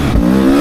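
Beta 300RR Race Edition dirt bike engine revving loud and close, a steady harsh two-stroke drone that swells slightly over a short burst, with no talk.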